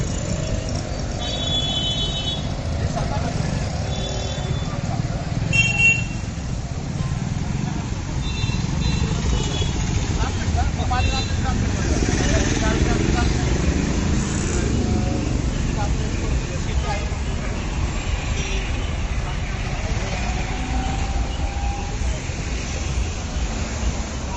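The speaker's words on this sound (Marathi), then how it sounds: "या अशी ट्रॅफिक होतीये सगळी" Steady road traffic rumbles on for the whole stretch, a dense wash of passing engines and tyre noise with faint horn-like tones and what may be voices mixed into the background.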